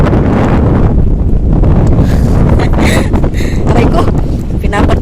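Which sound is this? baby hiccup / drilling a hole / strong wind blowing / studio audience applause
strong wind blowing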